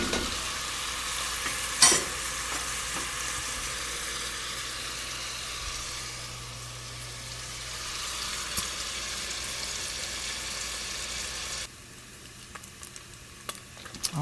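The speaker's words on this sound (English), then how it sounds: "So in goes that chopped bacon." Chopped bacon, about eight slices, fries in a pan with a steady sizzle and occasional stirring scrapes, with a sharp clatter near the start and a quieter stretch toward the end.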